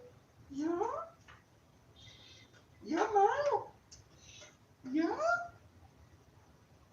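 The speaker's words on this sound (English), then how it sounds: "I'm not sure if you can hear her, but she is meowing" A cat meows three times, drawn-out and wavering, with short pauses between each call in an otherwise quiet room.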